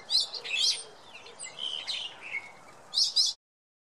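A Nusa Tenggara thrush sings a loud, varied phrase of clear whistled notes, with a rising flourish repeated at the end; no voices.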